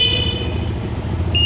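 A Lifan motorcycle's horn sounding with two short tonal beeps, one at the start and one near the end, loud and close over a steady low idling rumble.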